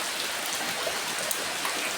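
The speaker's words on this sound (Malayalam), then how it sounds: "മഴ" Rain pours steadily in a dense, even hiss of drops striking surfaces nearby, with faint individual patters standing out briefly.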